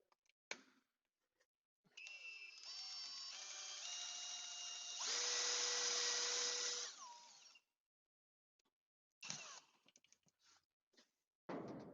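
A power drill whirs for several seconds, lifting a load by rope and sling, its pitch rising as it speeds up and then winding down, with clicks and clatter before and after.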